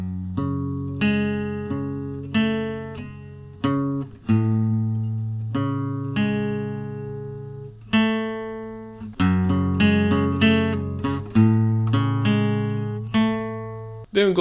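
Acoustic guitar picking a riff from a song, with open strings and fretted notes on the low strings, single plucked notes ringing out in a slow, spaced pattern, close and unaccompanied.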